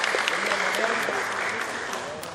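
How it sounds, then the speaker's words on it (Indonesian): Applause from health department staff and hospital directors at a governor's briefing, a steady, dense burst of clapping that holds evenly for a couple of seconds and tapers slightly at the end. "Kenapa tepuk tangan?"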